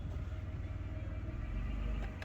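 A 1993 Dodge Grand Caravan LE, parked for about seven years, rumbles steadily at low speed as it is put in gear and creeps forward, close and continuous.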